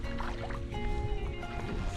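A canoe or kayak paddled on the upper Neuse River on a cold, sunny morning with a good current: a steady close wash of water with soft sloshes and trickles, and no voices.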